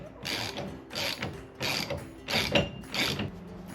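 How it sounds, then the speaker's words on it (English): A wrench winding bolts off a 1987 Jeep Wrangler during restoration, giving a rapid ratcheting clicking in five or six short bursts with brief pauses between, close and clear. "So, a wrench at the back. Just wind them off."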